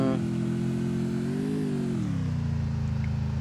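A motorbike with four exhausts revs in the Free Fire video game, a continuous loud engine drone that climbs in pitch and then settles lower, with no talk over it.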